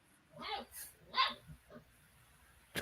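A dog barks a few times in short, faint yips and woofs, somewhat distant, mixed with quiet talk in a room.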